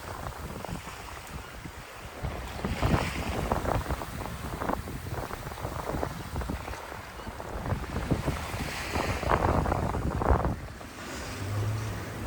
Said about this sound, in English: It's just such good wind, it's really amazing.